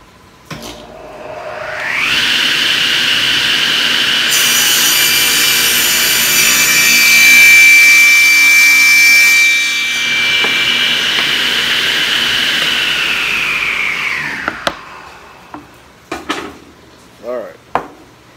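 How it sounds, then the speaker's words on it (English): A Delta table saw ripping a small piece of MDF: the motor spins up, a loud sustained whining cut holds for about twelve seconds, then the blade winds down, followed by a few sharp knocks and clatters. "got me a small piece of MDF, and we're going to make one more cut"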